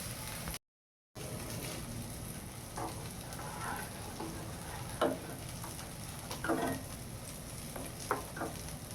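Fish fries in a pan for a Malvani fish curry meal, a continuous soft sizzle with occasional louder crackles and pops, steady throughout apart from a brief cut near the start.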